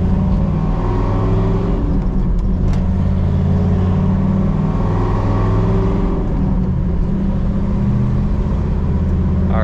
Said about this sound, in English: Gonna be taking this X22 code car on a short drive.